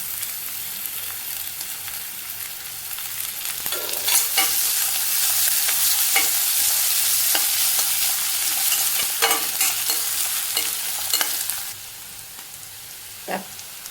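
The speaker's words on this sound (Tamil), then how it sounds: "வெங்காயம் நல்லா வதங்கிருச்சு" Chopped onions with crushed ginger and garlic sizzle in a pan under a loud, dense hiss, with scattered stirring scrapes and taps and no voices, easing off near the end.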